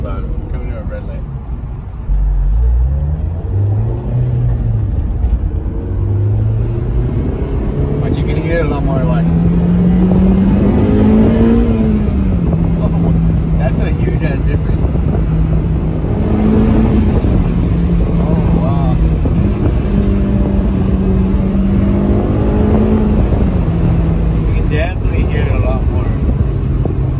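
A modified Honda S2000 engine heard from inside the car while driving through town, a loud steady drone that rises and falls with the revs, mixed with wind rush, a person talking over it.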